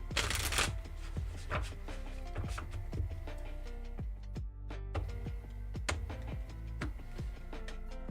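Repeated riffling and snapping of oracle cards being shuffled, quick crisp bursts in an uneven rhythm, with music playing underneath.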